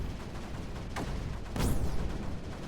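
Cannons firing in the strategy video game Creeper World 4, two muffled booming shots about half a second apart over a dense, rumbling game soundscape, the second blast louder and fuller, with no talk.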